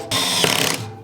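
A power screwdriver drives screws into a Huanuo sit-stand desk conversion kit, a steady mechanical whir lasting well under a second with a faint ratcheting chatter at the end, close up and alone.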